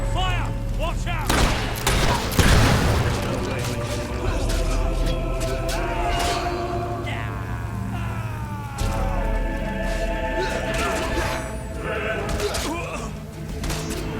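Enemy gunfire in Fable 3 crackles through a tense fight, with bursts of shots and thuds layered over a busy game soundscape and a voice calling out, loud and fairly close throughout.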